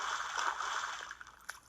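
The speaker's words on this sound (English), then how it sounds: "that's the sound of boots splashing in spring" Water sloshing and splashing up close, a steady wet churn with a few sharper splashes near the end, like boots stomping through puddles.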